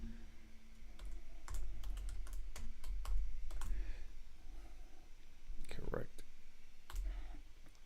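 Rapid clicking of computer keyboard keys in bursts of typing, close and fairly quiet, with brief pauses between runs of keystrokes and a faint voice in the background.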